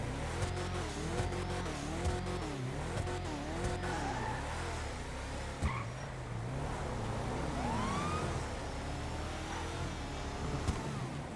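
A Canis Terminus Patrol police vehicle in GTA Online wails its siren in rising and falling sweeps, shifting between patterns, over engine noise and brief tire squeals, steady and prominent with no speech.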